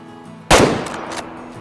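A single loud, close shot from a 30-30 lever-action rifle cracks sharply out of near quiet and then rings away in a short fading echo.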